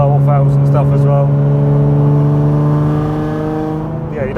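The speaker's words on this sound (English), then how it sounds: "you do get a lot of the turbo whistle out of it" A 1000HP Nissan R35 GTR heard from inside the cabin accelerates hard, with a loud, steady exhaust drone and turbo whistle that stay level and then ease off near the end.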